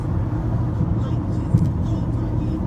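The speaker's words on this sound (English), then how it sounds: "Look at this traffic." Steady road traffic rumbles close by, a dense low engine drone with a brief swell partway through, heard from inside or beside a vehicle.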